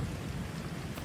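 A thunderstorm with steady rain pours down around railway engine sheds near a station, a dense low rumbling wash with no voices.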